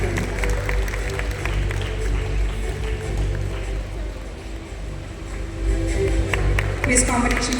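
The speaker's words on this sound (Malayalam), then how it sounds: "നല്ലൊരു കൈയടി നൽകി വിജയികളെ പ്രോത്സാഹിപ്പിക്കണമെന്ന് അഭ്യർത്ഥിക്കുന്നു" Sustained crowd applause fills a hall for quiz competition prize winners at an ISKCON Thrissur event, steady clapping continuing throughout while a voice speaks over it.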